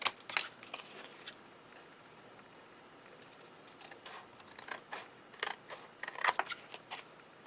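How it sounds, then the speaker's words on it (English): Scissors cut away the excess card around a die-cut frame in a card-making setting, giving faint, close snips and crisp clicks that come in irregular bursts and grow louder near the end. "And then you're going to cut away the excess."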